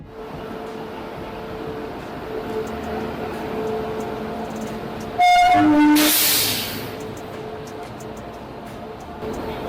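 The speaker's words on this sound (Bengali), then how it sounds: "রঙ্গিয়া রেলওয়ে স্টেশনে কামরূপ এক্সপ্রেস ঢুকলো" The Kamrup Express rumbles steadily into Rangiya railway station, a short burst of horn and a loud hiss of air brakes rising midway before the rumble settles again.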